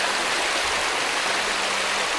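Overflow water spills off the side of a mill dam on a river, a steady, loud, broadband rushing roar that fills the whole stretch without a break.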